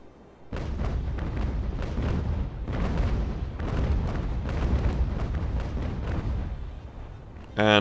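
Sailing-ship cannons firing a broadside in the naval video game Ultimate Admiral: Age of Sail, a loud, sustained run of overlapping booms and rumbling blasts lasting several seconds with no talking.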